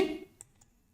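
A computer mouse clicks twice in quick succession on a software dialog's Finish button, short faint ticks heard alone after a fading bit of background sound.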